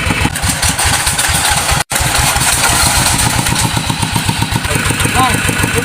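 Hand-cranked tractor engine running during a driving test: a loud, rapid, steady chugging with a short dropout near the start, close and continuous, with voices underneath.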